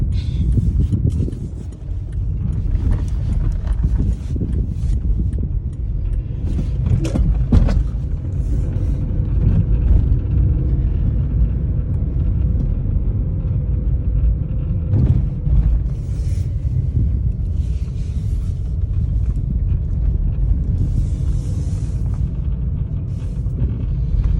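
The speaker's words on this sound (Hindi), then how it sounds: "ये जो गाड़ी मैं चला रहा हूँ ये है स्कोडा।" A Skoda car being driven, its engine giving a steady low rumble with road noise throughout, close and continuous with a few brief bumps.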